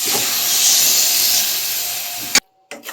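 Boiled cabbage tipped into a hot pan of garam masala, with a loud, steady steamy sizzle that hisses for a couple of seconds, then cuts off abruptly and briefly resumes.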